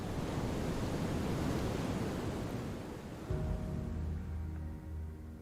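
Ocean surf on an empty Pacific beach, a broad steady wash of breaking waves with wind noise, loud at first then easing as a lower hum comes in.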